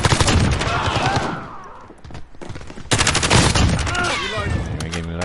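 Rapid bursts of gunfire from a shotgun and other weapons crack loudly in a video game firefight, dense volleys broken by a short lull, with voice chatter mixed in.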